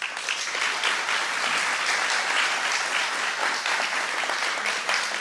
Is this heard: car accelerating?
no